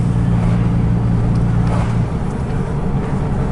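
A car passes on a road at night, a steady loud engine and tire roar close by, with the engine drone easing off partway through.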